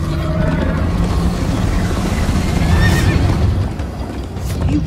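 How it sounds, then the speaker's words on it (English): A horse in the video game Minecraft Story Mode gives a loud, close whinny lasting several seconds, with a wavering rising-and-falling neigh over a steady background rumble and no talking. "First time on a horse here."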